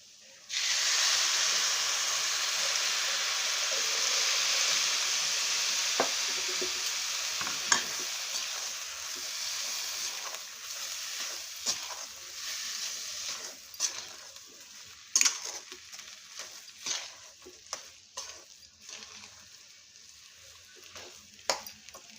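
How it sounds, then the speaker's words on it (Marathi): Milk poured into moong dal halwa frying in a pan sets off a loud, steady sizzle and hiss, which fades as stirring takes over with scattered scrapes and clinks of a spoon against the pan. "त्यानंतर आपल्याला दूध घालून घ्यायचं यात।"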